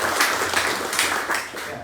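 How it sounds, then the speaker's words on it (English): An audience gives a round of applause at a talk, a dense wash of clapping from many hands sustained at steady volume throughout, with no voices over it. "So again, round of applause."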